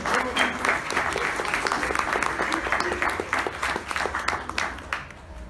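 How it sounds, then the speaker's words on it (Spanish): An audience at a university lecture applauds steadily for several seconds, a dense patter of many hands clapping that tapers off at the end. "Démosles una cordial bienvenida y un gran aplauso."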